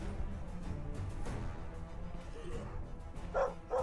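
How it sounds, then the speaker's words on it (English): Two dogs bark in the Stoneshard video game, with several short bow-wow yips and whimpers rising over a dense, busy game soundscape. "Oh shit, 2 dogs."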